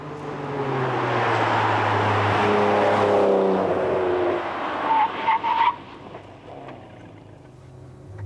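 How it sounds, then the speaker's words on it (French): Ferrari 599 GTB Fiorano with carbon-ceramic brakes brakes hard, engine roaring down with a tire squeal that fades away, leaving quiet ambience. "Les 1580 kilos de la belle sont arrêtés par des freins en carbone céramique."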